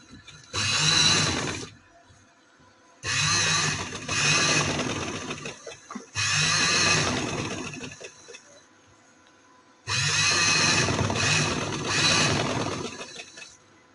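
An electric sewing machine stitches with Anchor thread in four separate bursts, each a loud rapid whir lasting one to three seconds, with quiet pauses in between.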